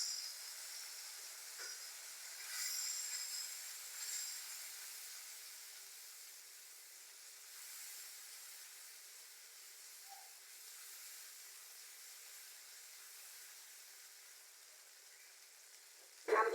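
Coconut paste frying in a pan alongside pangas fish gives a faint, steady sizzle and hiss that holds evenly throughout, ending in a brief sharp knock.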